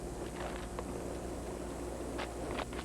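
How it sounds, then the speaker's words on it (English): A simulated bad phone connection in a 1986 radio commercial: steady, dense crackling hiss throughout with a few brief, sharper static bursts. "Sounds like a bad connection."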